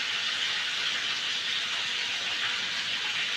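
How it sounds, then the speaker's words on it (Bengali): An electric mixer grinder blends ginger, onion and garlic into a paste in its jar. It gives a steady, loud, close whirring roar that runs unbroken with no one talking. "এদিকে আমি আদা পেঁয়াজ রসুনটা মিক্সির জারে দিয়ে দিলাম"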